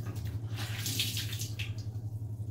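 Tap water runs steadily into a sink while a razor is rinsed, a close and constant splashing rush with a low hum underneath through the whole short stretch. Nobody speaks.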